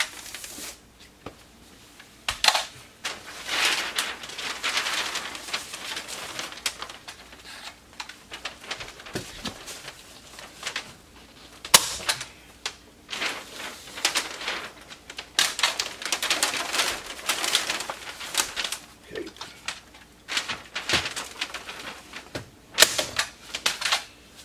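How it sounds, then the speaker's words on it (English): A staple gun fastens Tyvek home wrap to a pole barn interior wall, giving sharp, close snapping hits in irregular bursts with rustling of the wrap between them. "now I'm gonna get me a starting staple in here just to hold it where I need it."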